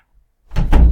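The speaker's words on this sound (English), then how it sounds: "I'm closing my door" A door swings shut with a single solid thunk, close and loud, after a near-silent start; no voices accompany it.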